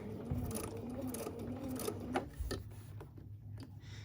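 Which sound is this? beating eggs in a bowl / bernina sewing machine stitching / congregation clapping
bernina sewing machine stitching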